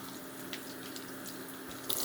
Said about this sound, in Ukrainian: Поки підсмажується цибулька, я зливаю з квасолі воду.